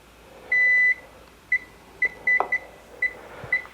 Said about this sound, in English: Okay, and we've got a beeping sound